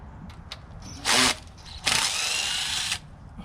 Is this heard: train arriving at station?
no